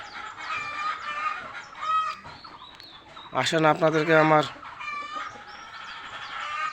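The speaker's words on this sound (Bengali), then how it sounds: "বাড়ির খামারের পোষানো মুরগি ভিডিওতে দেখাচ্ছি" Crossbred Egyptian farm chickens kept at a home farm, clucking and squawking close by in repeated bursts, with one loud, drawn-out call in the middle while someone talks between the calls.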